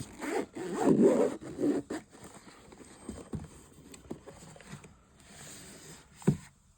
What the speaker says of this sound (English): We got zippers, 2 of them.